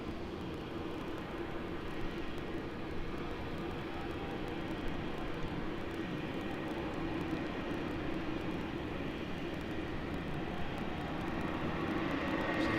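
Airliner arriving on runway 34 left at Sydney Airport at night, a steady distant jet roar that holds evenly throughout, swelling slightly toward the end, with no talking.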